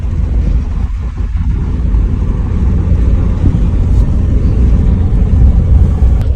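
A Suzuki Jimny 4x4 climbing the Chang La mountain pass in Ladakh gives a loud, steady engine and road rumble with wind buffeting throughout, and no voices.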